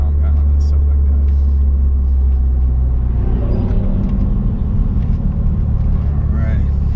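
A Dodge Dart driven fast on a technical, precise road, heard as a loud, steady low engine and road rumble that continues without break, with faint voices in the background.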